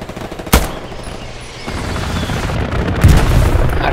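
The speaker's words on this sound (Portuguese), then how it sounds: "A artilharia tá caindo bem próximo aqui" Artillery shells landing nearby in Hell Let Loose: a sharp close boom, then rumbling blasts and scattered gunfire rolling on, with a second heavy impact near the end.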